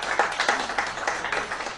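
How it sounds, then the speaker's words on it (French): An audience gives brief applause at a women's day gathering, a burst of many hands clapping in quick irregular rhythm that carries on steadily through the moment. "Les applaudissements."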